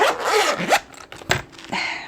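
A pen case zipper is pulled in several quick, raspy strokes, close and fairly loud, separated by short pauses, with no talking.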